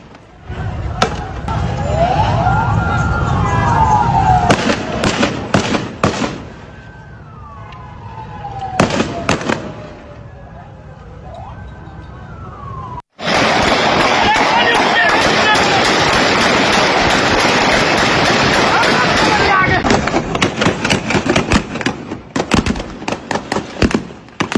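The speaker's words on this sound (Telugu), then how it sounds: "ఒక్కసారి అక్కడ ఆందోళన జరుగుతున్న శబ్దాలను మనం విందాం." Loud street protest in Sindh, Pakistan, with police opening fire on demonstrators: sharp bursts of shots and bangs, sweeping siren wails, and a dense roar of crowd noise that fills the second half.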